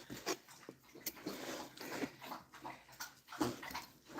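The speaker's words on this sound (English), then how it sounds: "You hear Gracie over there having a good old drink of water?" A dog named Gracie lapping water nearby, a run of irregular wet slurps and splashes at fairly steady pace, fairly faint in a quiet kitchen.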